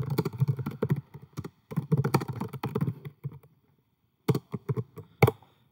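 Code is typed on a computer keyboard in quick bursts of close clicking keystrokes, a long run of rapid taps, a pause, then a few scattered key presses.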